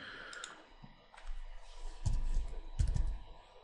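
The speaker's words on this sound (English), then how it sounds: "you can type that in the box up here" Keys clicking on a computer keyboard as a domain name is typed into a search box, a few light taps followed by heavier thumps, close and moderately loud, with no talking.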